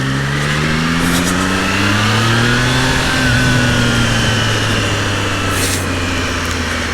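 A Triumph Trident 660 motorcycle engine accelerates in road mode, loud and close, with the revving pitch climbing through the gears against steady wind and road rush.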